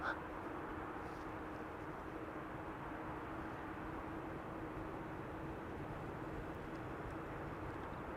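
A Suriname Airways Airbus A340-600 operated by USC at Amsterdam Schiphol gives off a steady, faint, distant jet roar with a broad low rumble that holds evenly throughout, with no voices.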